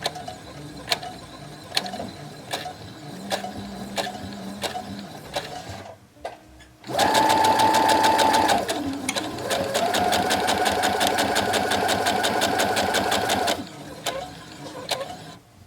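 A sewing machine chain-stitches quilt pieces in steady bursts of rapid, even needle clatter, loud and close, with brief pauses and quieter handling between runs.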